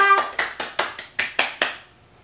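Hands clapping about seven times in a quick, steady rhythm during a preschool pet-themed arts and crafts session, close and crisp, with no talking.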